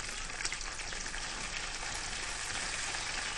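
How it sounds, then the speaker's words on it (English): Prawns with garlic sizzle and crackle in a pan, a dense, steady hiss that holds evenly from start to finish with no voices over it. "Look, he's cooking prawn."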